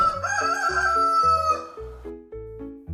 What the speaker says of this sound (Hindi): मुर्गा अपनी जगह बताने और अपने समूह से बात करने के लिए कुकड़ूकू करता है।